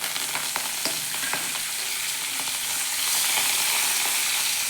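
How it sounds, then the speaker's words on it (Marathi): Coriander leaves and garlic with curry leaves frying in hot oil until crisp, a loud continuous crackling sizzle with scattered spits and pops, close up and steady throughout. "कोथिंबीर कडक होईपर्यंत बघा याच्यात तळून घ्यायचं व्यवस्थित"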